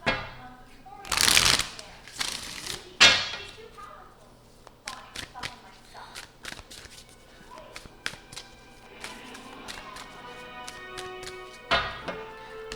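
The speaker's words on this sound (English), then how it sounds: "So let's give it one more good shuffle" Tarot cards are shuffled in several short riffling bursts, close and crisp, followed by scattered taps and soft handling noises, with a voice speaking quietly at points.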